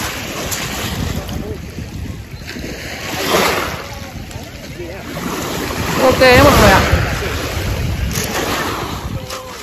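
Wind buffets the microphone while sea waves wash onto a beach on the edge of London, swelling in two louder surges, with a person talking over the surf.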